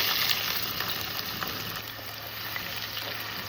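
Onions sizzle in heated oil for a spicy homemade mutton fry, a steady close crackling hiss that holds evenly throughout with no talk over it.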